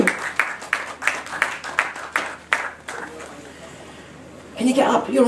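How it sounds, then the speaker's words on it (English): An audience claps for a young volunteer joining a magic show: a run of sharp, separate claps, fairly loud at first and thinning out, then a voice and other talk rise at the end. "give a big round of applause, everyone!"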